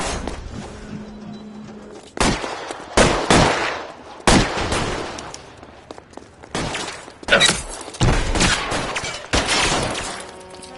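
A run of loud, sharp gunshots in a video game, roughly eight to ten separate bursts spaced over several seconds, some quick rattling volleys, with quieter gaps and faint background tones between them.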